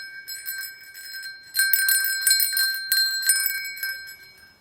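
A small magic bell rings clearly in repeated bright, high chimes, quiet at first and then louder, a few quick shakes with ringing tones that linger between strikes.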